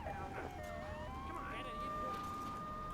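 A police car siren from the video game GTA 3 wails in rising and falling sweeps, moderately loud and steady throughout, with voices and other game noise underneath.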